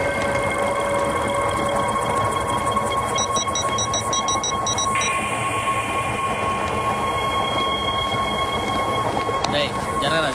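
A local train runs with a steady, dense rumble and rattle throughout, a high whining tone and intermittent clicking over it, loud and continuous with faint voices underneath.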